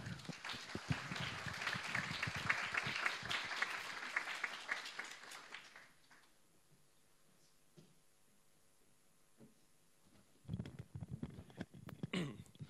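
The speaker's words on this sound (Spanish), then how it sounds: "por favor, un fuerte aplauso para ellos" Audience applause at a university welcome day for the 2022-23 academic year, strong clapping for about six seconds that fades into near quiet with scattered coughs and shuffling, then voices and noise return.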